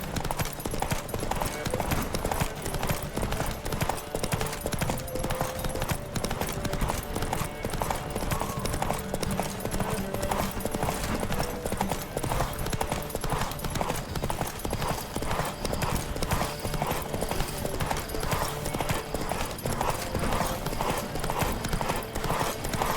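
Horses gallop at full speed in a race in The Witcher 3, hooves clip-clopping in a dense, steady drumming that runs the whole time, loud and close, with an occasional whinny.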